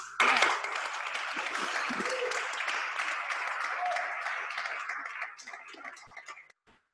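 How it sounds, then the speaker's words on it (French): A conference audience applauds steadily at the launch of a white paper on heritage digitization, dense crowd clapping sustained for about six seconds before tapering off, with a few voices faintly underneath. "je pense qu'on peut les applaudir à nouveau"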